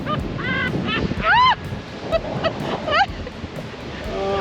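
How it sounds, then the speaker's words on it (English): Strong wind and waves crashing on a lake shore in cold autumn weather in Door County, Wisconsin, a loud constant roar with surges, while geese honk in short rising calls nearby. "The waves are incredible."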